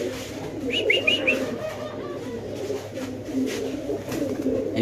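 Cream-coloured pigeons with pale stone-like eyes, kept in a pet loft, coo low and steadily nearby, with a few brief higher chirps early on over faint background noise.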